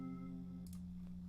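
A bell-like synth tone for a rage beat, built in Ableton Live with effects such as an imager left on, rings faintly as a sustained, harmonically rich note with a brief brighter flutter partway through.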